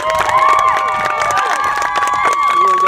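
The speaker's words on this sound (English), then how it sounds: "give your competitors a round of applause" Crowd at a jousting games event applauding and cheering for the competitors, loud and close, with whoops, shouts and children's voices mixed into the clapping throughout.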